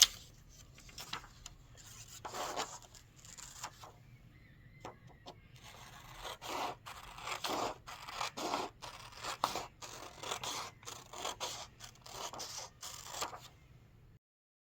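Paper cut with scissors for an agamograph, a run of quiet snipping and rustling strokes, close and steady, with no talk.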